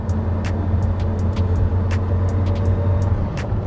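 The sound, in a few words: Porsche Carrera GT gearbox whirring and clunking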